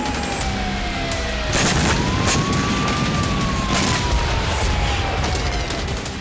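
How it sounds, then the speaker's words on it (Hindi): Red alert air raid sirens in a western Russian city wail with a slow rising and falling tone over a loud, dense rumble of background noise, carrying on without pause and with no voices. "रेड अलर्ट के सायरन बजते सुनाई दिए।"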